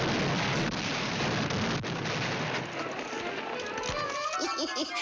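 A cartoon TNT explosion gives a dense, crackling, rumbling blast that fills the clip and fades, with a voice briefly heard near the end.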